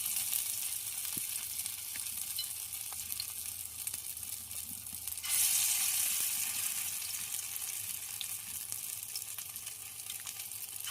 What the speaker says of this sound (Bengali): আমার তেলটাও গরম হয়ে গেছে, এখন দিয়ে দেবো যে বড়াটা, ডালি বড়াটা।